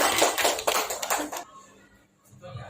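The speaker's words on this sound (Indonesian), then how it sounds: "Tepuk tangan untuk kita." Classroom audience clapping together after a teacher's quiz on PJOK, a dense burst of hand claps lasting over a second, then cutting off to quiet room sound with a faint voice.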